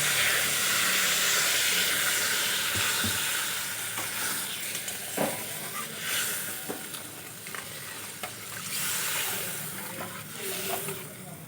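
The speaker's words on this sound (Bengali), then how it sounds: "এখন আমি পরিমাণ মতো জল দিয়ে দেবো" A broad steady sizzle and hiss rises from fried spice paste in a pan as water goes in for a fish curry, with scattered pops and clinks of stirring over the constant frying noise.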